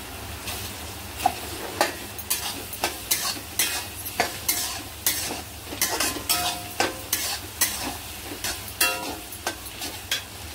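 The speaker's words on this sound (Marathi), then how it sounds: "आता आपण याच्यात भात टाकूया. आता हे अंडं फ्राय केले ना, हे सुद्धा टाकूया." Chicken fried rice with vegetables and fried egg is stir-fried in a pan, a continuous sizzle under rhythmic, regular scrapes and clacks of the spatula, close and fairly loud.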